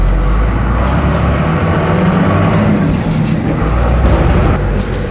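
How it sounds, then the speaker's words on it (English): An old Cummins-powered tow truck drives along, its engine droning steadily while the cab shakes and rattles loudly without letup, with some voice sounds faintly mixed in. "It's just got its normal shakes and rattles, what we got to get used to."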